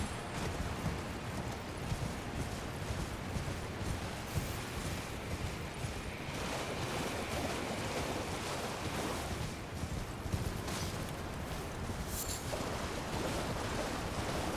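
A waterfall in the video game Elden Ring: Shadow of the Erdtree gives a constant broadband rush of falling water, dense and steady throughout, with no talking.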